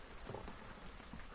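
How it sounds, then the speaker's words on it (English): Heavy rain falls outside at night, a dense, steady patter of drops on surfaces, faint and continuous, with no talking. "I don't know if you can hear the rain. It's quite strong tonight out there."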